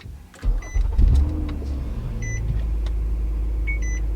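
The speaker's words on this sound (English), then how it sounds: "let's power on the vehicle" A car powers on nearby, with a soft thump and then a steady low electrical hum, while several short electronic beeps chime over the drone.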